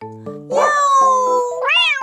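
A drawn-out, high meow rises and falls, followed by a short second meow, loud and close, over a brief tonal sound at the start.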